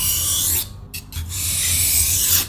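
A knife blade rasps back and forth across a fine 6000-grit sharpening stone, a few loud gritty strokes separated by brief pauses, close and with no talk.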